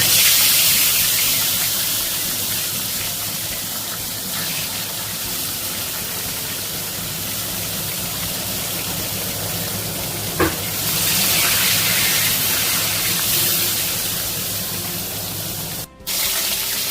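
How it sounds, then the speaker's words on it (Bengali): Katla fish pieces frying in a pan, a loud steady sizzle that holds for the whole stretch, with one brief soft knock partway through and a short dip near the end, no voices. "কাতলা মাছগুলো আমি ভেজে নিচ্ছি।"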